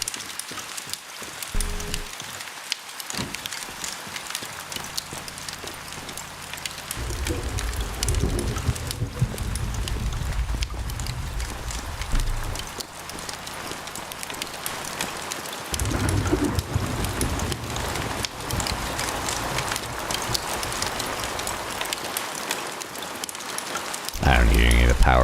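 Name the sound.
rain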